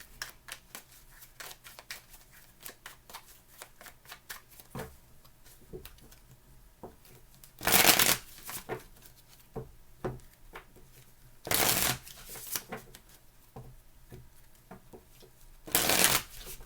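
Tarot cards being shuffled in three loud riffling bursts, spaced several seconds apart, with soft tapping and handling noises in between.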